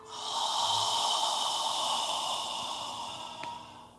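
A long, slow exhale during a yoga session, one soft, airy breath close to the microphone that swells and fades over several seconds.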